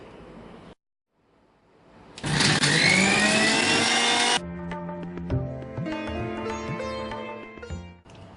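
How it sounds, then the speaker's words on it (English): A blender roars loudly for about two seconds, a dense whirring grind of vada curry ingredients into a smooth paste, then stops; clattering and scraping sounds follow. "we're transferring all the ingredients into a blender and we need to grind this to a nice smooth paste"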